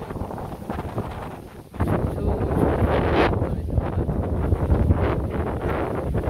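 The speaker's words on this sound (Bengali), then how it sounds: "কি সুন্দর বাতাস।" Strong wind sweeps through a village just before rain, roaring and buffeting loudly against the microphone with rustling gusts. It is steady and close, then grows stronger after a brief lull.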